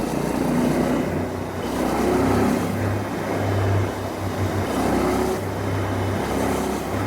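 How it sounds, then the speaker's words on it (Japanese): A Honda Hawk 11 motorcycle, a Japan-only model, hums steadily at high revs on a freeway, its engine note droning under heavy wind rush with slight swells in pitch. "今回の試乗でここまでエンジンを回したことはなかったので、ちょっと意外なほどいい音です。"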